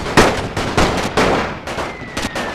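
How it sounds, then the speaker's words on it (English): Rapid gunfire cracks in a WWI Verdun battle video game, with several loud close shots and bursts in quick succession over a rumbling battlefield background. "Oh, they're firing at some,"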